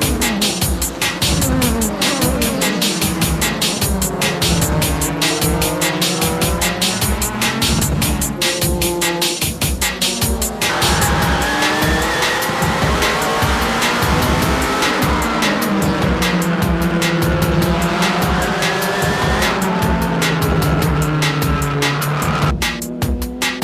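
JGTC Toyota Supra race cars on a circuit, loud engines roaring and shifting continuously with repeated pitch sweeps as cars pass one another, plus occasional tyre squeal, with no talk over them.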